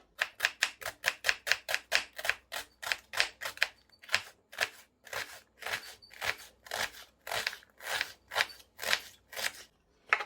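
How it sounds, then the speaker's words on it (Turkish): Rapid, rhythmic knife chops through onion on a board, a fast burst of cuts followed by a slightly slower steady run, close and clear without voices. "Soğan doğrayalım."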